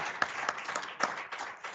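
Applause from an audience at a Namibian trade event, thin and scattered with a few distinct nearby claps standing out from the softer clapping of the room, brief and modest.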